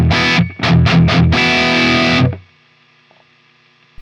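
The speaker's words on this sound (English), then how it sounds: "crank up the gain a little bit more so you can really hear the noise" A high-gain Amped Volcano guitar amp plays loud, heavily distorted chugging chords in short bursts and then one sustained chord, which cuts off into faint residual amp hiss and noise.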